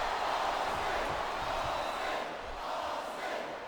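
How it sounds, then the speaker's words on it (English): A capacity arena crowd roars steadily throughout a WWE SmackDown video game wrestling match, Stone Cold against Kelly Kelly at Armageddon, a dense, continuous wash of cheering and shouting with no clear breaks. "This capacity crowd is making their opinions known tonight"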